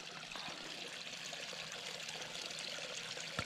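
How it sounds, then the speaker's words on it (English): A small creek in a Texas state park runs into a lake with a soft, steady trickling babble, faint and continuous with a couple of light knocks near the end. "Oh, look at the stream."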